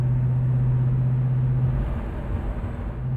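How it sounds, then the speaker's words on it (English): A 1970 Chevrolet Chevelle convertible's 350 V8 idles with a steady, deep low rumble, barely on the throttle, close and continuous with a slight swell in the second half and no talk. "that 350, listen to that rumble"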